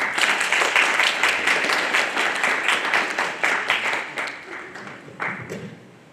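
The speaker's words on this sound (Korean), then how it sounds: "큰 박수로 맞아주시기 바랍니다" Audience applause at a school admissions briefing for the performing arts and drone video departments, welcoming the high school principal to the stage; dense clapping throughout, loud at first and tapering off toward the end.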